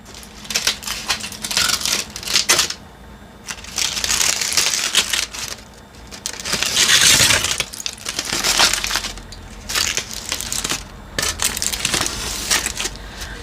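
A foil-wrapped wax melt gift is unwrapped up close, with bursts of crinkling and crushing foil broken by short pauses.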